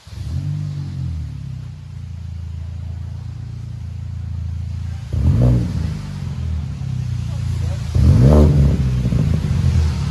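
2006 Mini Cooper 1.5L with a DTM muffler, 3-inch outlet and 2¼-inch inlet exhaust, idling with a steady low burble, then revved twice in short rising bursts, close and loud.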